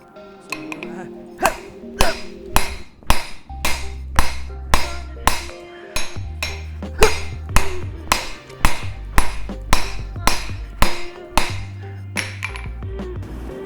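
Steady hammer blows ring out on a hot kukri blade at a forge, about twenty sharp metallic strikes in an even rhythm, close and loud, over a low background hum.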